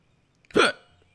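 In the adventure game Broken Sword: The Shadow of the Templars, a character gives a single short, loud hiccup against a quiet background.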